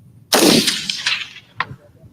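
A rifle loaded with blanks during Navy SEAL training fires one loud, close crack that rings out and decays, followed by a smaller sharp report a moment later.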